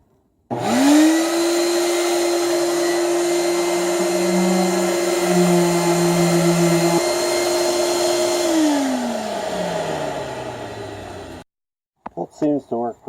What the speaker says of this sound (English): So I got my vacuum out there and my sander.